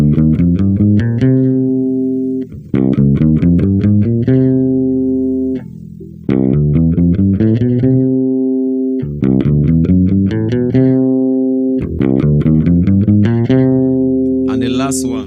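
Bass guitar running through all the modes from a C root in one position, clear sequences of single melodic notes in repeated ascending and descending runs, loud and upfront with short pauses between each mode.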